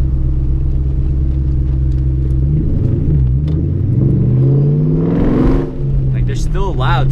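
Ford Shelby with a supercharger and Borla exhaust revving, a loud close rumble that rises in pitch with a whining sweep, while someone talks over it.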